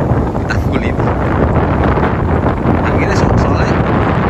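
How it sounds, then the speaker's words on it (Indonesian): Strong wind buffets an outdoor microphone on an embankment road, a constant loud low roar that fills the whole clip with no gaps. "karena ada suara angin"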